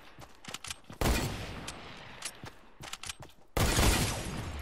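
Hunting rifle shots in Fortnite: two loud sharp blasts with a long ringing tail, separated by a few seconds of smaller scattered pops and clicks from the game.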